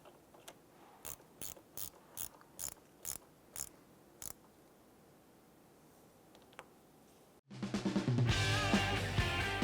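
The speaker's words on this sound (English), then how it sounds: "Take your ground terminal, line this up, and let's go ahead and snug down that nut." Ratchet tightening the ground terminal nut on a 2012-2017 Toyota Camry taillight, a close series of about ten evenly spaced clicks, followed by loud music.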